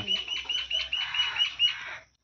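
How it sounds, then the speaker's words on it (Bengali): A duck being caught and carried gives a quick series of close, nasal quacking calls for about two seconds before falling silent. "প্রথমবার ধরছে হাঁসটা"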